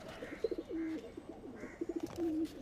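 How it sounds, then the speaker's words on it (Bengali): Green Madras pigeons coo nearby in soft, rhythmic bursts, two rolling phrases each ending in a drawn-out note, alone against a quiet background. "এই পায়রা দুটো ম্যাড্রাস পায়রা"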